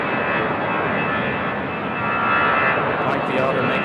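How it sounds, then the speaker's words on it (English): Otter aircraft departing Raleigh Durham airport, a steady loud engine drone throughout that swells slightly midway, with a few faint clicks near the end and no speech. "the Otter making all kinds of wonderful noises departing"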